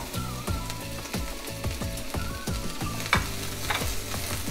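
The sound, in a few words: sliced white onion frying in olive oil in hot pan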